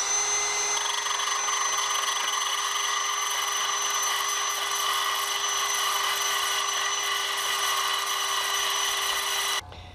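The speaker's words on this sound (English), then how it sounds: "I just went to the wheel, the cutoff wheel" A cutoff wheel grinds powder coating off a steel wheel hub with a loud, steady, high-pitched whine that runs continuously and then stops abruptly just before the end. No one speaks.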